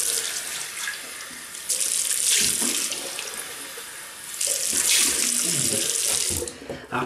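Tap water runs steadily into a sink for a post-shave rinse, a loud continuous splashing hiss that swells and surges in two stronger bursts, with no talking.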